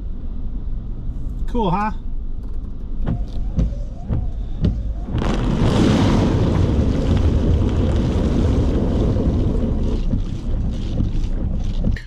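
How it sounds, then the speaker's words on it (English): A vehicle wash at a dump sprays water up from below and the sides at a truck's tires and underside, a loud broad rushing hiss swelling from mid-clip and holding steady over engine rumble, with a brief spoken remark. "they have this washer. It like sprays at your tires and underneath your vehicle to get all the mud and dirt"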